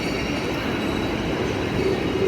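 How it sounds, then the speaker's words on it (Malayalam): An ICE high-speed train roars past a German railway platform in a loud, continuous rush of wheel and rail noise that holds for the whole stretch. "ഇതാണ് ICE."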